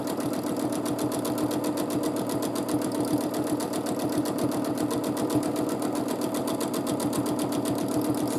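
A sewing machine free-motion quilts a large quilt, its needle chattering in a fast, even, continuous rhythm close by with no pauses.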